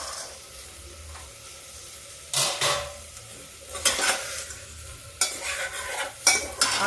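Peas and kasuri methi go into masala in a pan for an aloo matar sabzi, a soft steady sizzle of frying broken by several bursts of vigorous stirring and scraping against the pan.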